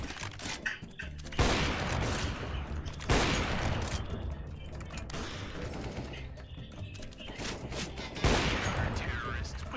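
Bursts of rapid automatic gunfire from the CS:GO video game crackle loudly and up close, with several sustained volleys separated by short pauses and scattered single shots between them.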